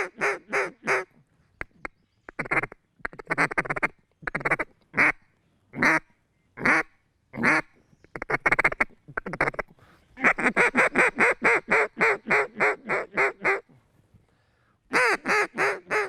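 Two hand-held duck calls blown alternately to mimic several ducks working toward decoys, a string of loud, close quacks in choppy bursts with short gaps between runs, ending in a rapid continuous sequence; no talking.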